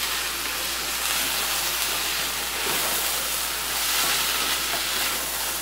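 Frozen homemade tomato sauce hitting a hot frying pan, giving off a steady, loud broadband sizzle and hiss that holds evenly throughout with slight swells.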